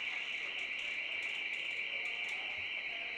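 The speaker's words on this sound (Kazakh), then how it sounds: "Енді түсіріп жатқан кезде мына жерде бір сигнализация істеп қалды." An alarm sounding inside a Toronto transit station, a continuous high electronic tone held steady throughout, faint and distant against quiet background noise.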